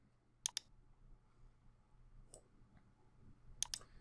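Computer mouse clicks while working in Fusion 3D design software: a quick double click, a lone click about two seconds later, then another quick pair, crisp and close against a quiet room hum.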